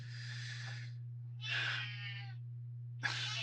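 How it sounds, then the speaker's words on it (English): A cat gives three drawn-out, breathy meow-like calls with pauses between them, over a steady low electrical hum; no talking. "Can you hear my kitty?"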